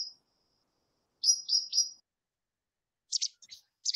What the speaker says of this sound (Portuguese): O som do melro.